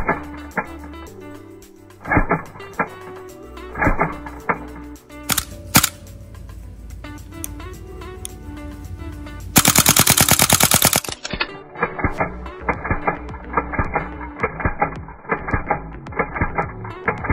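A WE full-travel gas blowback AK74 airsoft rifle has its held-back bolt released, snapping forward with sharp metallic clacks. The clacks come in a loud, rapid cluster amid other handling clicks.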